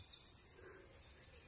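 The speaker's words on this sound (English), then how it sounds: "I can hear bird that is chirping." A quick series of faint, high bird chirps repeats in a rapid trill over quiet background noise.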